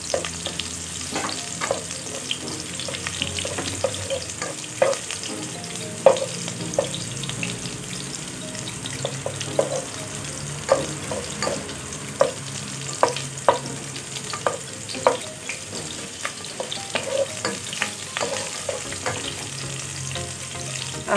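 Onion sautés in a pan for clam soup, a steady soft sizzle broken by scattered clicks and scrapes of stirring, with no talking.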